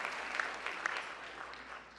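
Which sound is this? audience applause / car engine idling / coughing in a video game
audience applause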